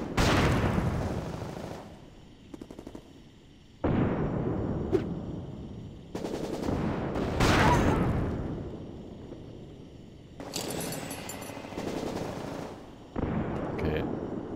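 Grenade blasts and machine-gun fire in the top-down shooter Tiny Troopers Joint Ops, loud bursts of rapid gunfire broken by several heavy explosions across the clip, with brief pauses between volleys.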